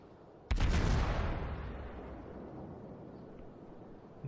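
A single heavy naval artillery salvo from a Budjonny cruiser in the World of Warships video game, a sharp loud boom followed by a long decaying rumble with no speech.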